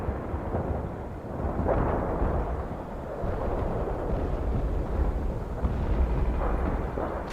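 Heavy artillery barrage in World in Conflict rumbles as a dense, continuous wall of distant booms and rolling blasts, loud and sustained with no talk over it.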